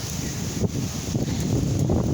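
Strong wind blows through a city street in Toronto on a gusty day, a steady close rushing roar that buffets the microphone without a break.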